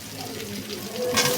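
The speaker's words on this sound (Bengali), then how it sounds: "মাছ ভাজির তেলেই দিয়ে দিলাম পরিমাণ মতো রসুন পেঁয়াজ কুচি" Garlic and chopped onion hit hot oil left over from frying fish, giving a brief, steady sizzle and crackle with some stirring.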